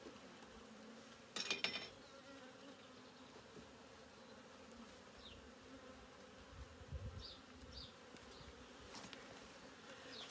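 A honey bee colony hums steadily while being moved from one hive into another, a low continuous drone with individual insects buzzing close by now and then, plus a brief handling clatter early on.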